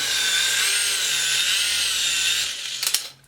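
A small toy helicopter from AliExpress runs with a steady high-pitched motor whine and rotor buzz, loud and close, then cuts off into a few clicks and handling knocks near the end.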